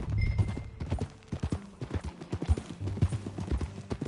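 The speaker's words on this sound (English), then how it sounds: "That a new horse?" Horse hooves clip-clop in Red Dead Redemption 2, a close, fairly loud, irregular run of hoofbeats with soft thuds over low ambient background.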